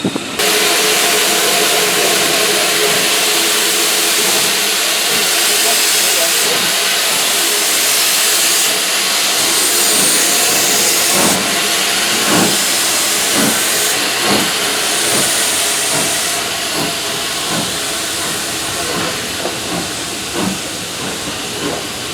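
A steam locomotive on the Severn Valley Railway rolls along approaching Bewdley station with loud continuous hissing and a rhythmic clatter of wheels, steady and close throughout.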